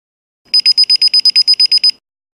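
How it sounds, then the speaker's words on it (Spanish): A rapid series of about ten identical electronic beeps, loud and evenly spaced, from a DSC PowerSeries alarm keypad confirming a medical emergency signal was sent, with silence before and after. "El teclado hará 10 bips"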